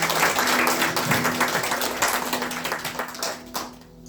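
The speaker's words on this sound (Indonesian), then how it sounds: "Tepuk tangan untuk Tuhan" A church congregation applauding, a dense wash of many hands clapping fairly close, steady for several seconds before thinning out and fading at the end.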